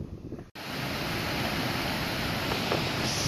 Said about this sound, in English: There's this creek that's crossing the trail right here. It cascades down all the way into the valley.